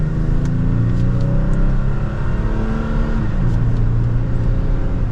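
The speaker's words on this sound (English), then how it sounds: "We'll pop it over to the manual setting now, go to 2nd gear and give it a little bit of gas." A 2023 Toyota Tacoma TRD Sport pulls in second gear in manual mode, its engine droning loud and steady with a rising, rumbling pitch from inside the cab, and no talking.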